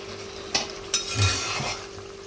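Chicken pieces go into chili sauce simmering in a pan and are stirred, giving a few sharp utensil clinks and a soft sizzling scrape close by, over a faint steady hum with no talk.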